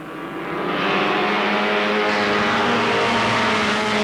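Race cars lap Alwalton Raceway in 1983, a steady engine drone swelling as the pack comes round, moderately distant with no voices over it.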